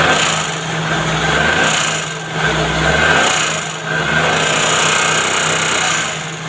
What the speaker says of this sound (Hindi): इसके हेड की आवाज़ बहुत ज़्यादा आ रही है